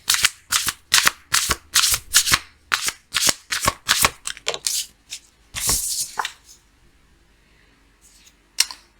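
Tarot cards being shuffled at close range, a rapid run of about a dozen crisp riffling bursts, then a few slower scattered flicks and a last snap after a quiet pause.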